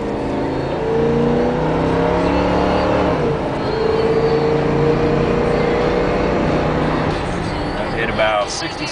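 A 1996 Chevy Caprice station wagon drives on a road test, its engine droning steadily from inside the cabin, pitch rising and easing with speed.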